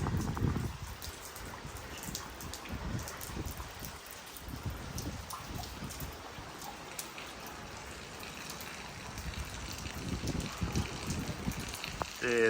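Steady rain falls at night in a Pakistani village, a dense, even patter of drops on surfaces that continues without a break, with no talk.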